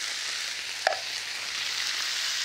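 Crushed tomatoes go into a pan of toasting spices for huevos rancheros, a steady close sizzle and hiss with one brief clunk near the start, then continued frying with no talking.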